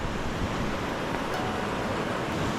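Water rushing steadily at Red Rock Falls in Yosemite, a continuous broadband roar with no pauses, fairly close and loud, heard alone without voices.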